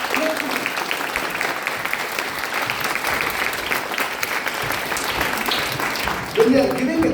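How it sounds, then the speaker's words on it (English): Engineering students in a hall give sustained, dense applause for soldiers, an even roar of many hands lasting throughout, with a voice briefly cutting in near the end. "Please give them clap, clap."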